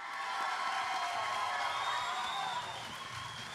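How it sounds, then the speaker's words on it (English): Crowd at a SteelFist 101 Heatwave fight event applauds and cheers for an undefeated fighter, a steady, dense wash of clapping and voices filling the whole stretch before easing slightly at the end. "let me get a big round of applause for the undefeated Joey Scott"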